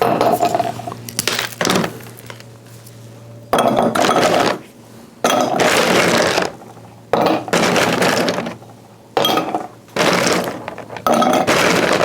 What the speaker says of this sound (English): I want a little bit of fresh ice in the glasses